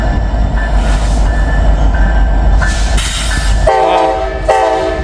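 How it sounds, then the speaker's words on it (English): An eastbound freight train with two helper locomotives rolls past at Horseshoe Curve, a loud, steady rumble of engines and rail cars with clattering wheels and a horn-like tonal blast near the end. "I think these are those two helper locomotives coming back."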